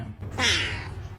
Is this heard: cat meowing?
yes